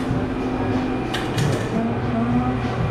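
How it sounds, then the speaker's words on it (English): A portable A/C vacuum pump evacuating a car's air conditioning system runs as a steady, close mechanical drone with a low hum, holding even for the whole stretch. "Okay, let's start evacuating this thing."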